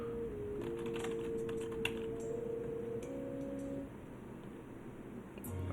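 Fast, light clicking of keys on a computer keyboard runs steadily over a faint tonal hum, close and quiet, with no talking.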